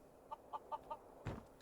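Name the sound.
chickens clucking in the video game Skyrim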